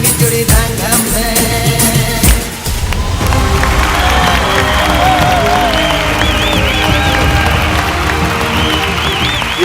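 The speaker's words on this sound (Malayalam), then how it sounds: "ഈ കയ്യടി പോരാ." Audience applause and cheering fill a comedy show stage, a loud, dense, sustained clapping wash mixed with crowd shouts, with a brief dip before the applause swells again and continues steadily.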